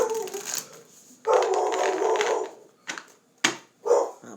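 A dog yelps and whimpers in short, uneven bursts with gaps between them, close and fairly loud, amid New Year celebrations.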